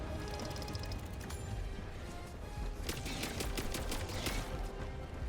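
Sustained rapid video-game gunfire, bursts of automatic shots rattling in quick succession, loud and continuous with denser volleys toward the end.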